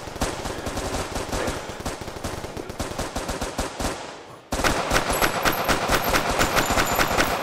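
Automatic gunfire in the Crisis Brigade video game, fast rhythmic shots in a steady stream, briefly cut off before resuming just as loud and rapid.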